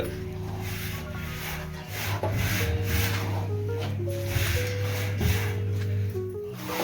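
Rice flour being slowly roasted and stirred in ghee in a pan, steady scraping and rubbing strokes over a low sizzle, close and continuous, with background tones throughout.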